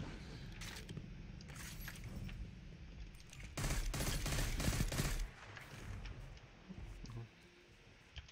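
Shotgun blasts and gunfire in a Destiny 2 match, loud bursts clustered in the middle amid ongoing shooting and game noise, with a voice talking at times.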